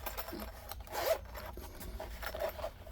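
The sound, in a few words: zipper of a whetstone storage case being opened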